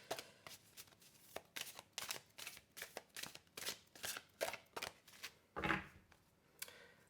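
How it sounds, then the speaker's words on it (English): Tarot cards shuffled by hand in a steady series of riffling, flicking bursts, fairly close and clear, with one louder riffle near the end and no talking. "I'm going to shuffle a couple of more times"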